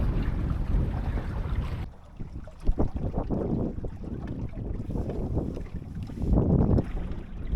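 A sailboat with brand new sails beating upwind at around five miles an hour, with steady wind and water rush throughout, a louder gust at the start easing into continuous hull and wave noise with occasional knocks.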